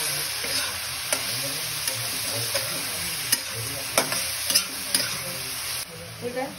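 Chicken mince fries with turmeric in a pan, a constant close sizzle punctuated by regular sharp scrapes and taps of a spatula stirring the meat.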